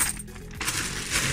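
A bag of 50p coins is cut open, and the coins shift and clink in a steady metallic jingle that swells near the end, close and fairly loud, with no talking.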